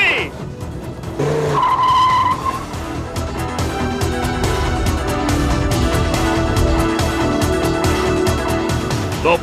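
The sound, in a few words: Dodge Viper driving hard with no engine oil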